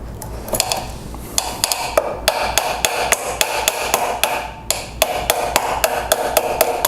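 Steady, evenly spaced metallic hammer taps drive a punch against a trigger pin on a Remington 700 rifle during a Timney Calvin Elite trigger install, loud and close with no talking.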